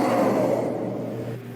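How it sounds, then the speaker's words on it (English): Recorded group vocals for Warframe's Styanax, heard on their own, form a short, loud massed battle cry with a sustained tonal chant that slowly trails off. "the group vocal that we recorded sounds like this on its own"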